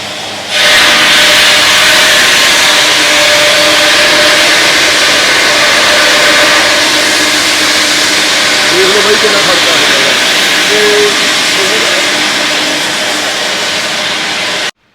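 A stone-cutting machine runs at a stone factory, giving off a loud, steady hissing grind that holds unbroken throughout, with a faint voice briefly surfacing in the middle.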